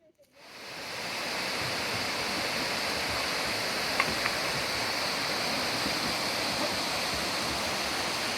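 Water pours over Jump Off Falls into a cove, a constant close rushing roar that swells in at the start and then holds steady with no talk.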